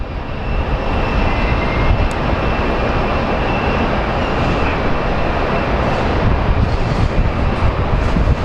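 An airplane landing at Phoenix Sky Harbor airport produces a steady, loud, broad engine roar that stays constant throughout without pause.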